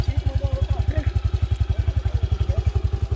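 A motorcycle engine idles close by on a rural farm in Guarabira, Paraíba, Brazil, with a steady, rapid thumping pulse, loud and even for the whole stretch.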